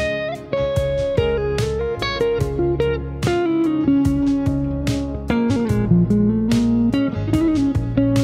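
An electric guitar with effects and light distortion plays a solo line of quick notes and bends with passing tones, loud and alone with no talking.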